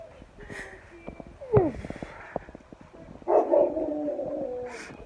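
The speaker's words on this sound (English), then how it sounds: "You guys probably hear the dog barking." A neighbourhood dog barks a few times at a distance outdoors on moving day, the yaps mixed with some speech and background noise.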